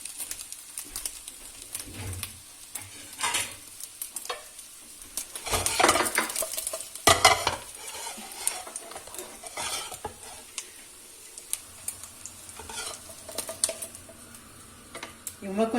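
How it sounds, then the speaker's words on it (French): Eggs frying in a pan and being stirred for a chicken and vegetable stir-fried noodle recipe: a soft sizzle underneath, with irregular scraping and clinking of the utensil against the pan in bursts. "Je vais continuer comme ça à faire cuire mes œufs"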